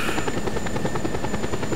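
A helicopter in Just Cause 2 drones loud and close, its rotor beating in a fast, steady pulse with a constant high whine above it.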